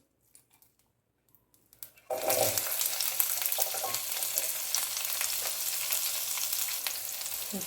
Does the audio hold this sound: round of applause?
no